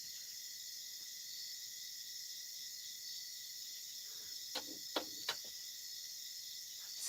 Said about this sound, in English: Oh, you're hearing the cicadas?